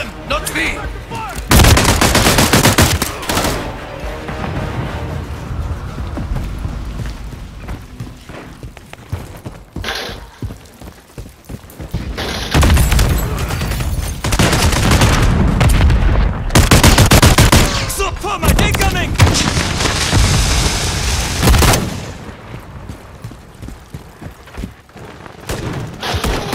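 Call of Duty gunfire in loud sustained bursts of automatic fire, broken by short pauses and heavy booms, with a shouting voice now and then over the shooting.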